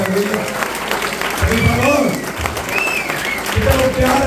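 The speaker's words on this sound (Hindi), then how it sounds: "पवित्र आत्मा के लिए एक जोरदार ताली बजाते हैं।" A church congregation claps loudly in a continuous burst of applause, with a preacher's voice rising over the clapping.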